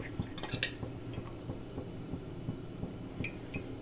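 A metal lid goes onto a cooking pot of black-eyed pea stew, giving a few light clinks and clatters. Soft, irregular kitchen knocks follow quietly over low background hum.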